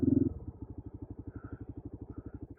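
A moped engine idles with a steady, rapid low putter, near and fairly loud after a brief stronger burst at the start, on a muddy Algerian track just before a water crossing.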